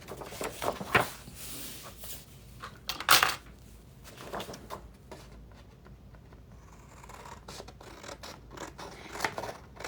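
Scissors cutting paper for Sleeping Beauty diorama pages: a few crisp, close snips early on, then softer rustling and handling noises, with no talking.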